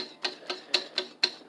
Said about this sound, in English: I'll just use a whisk.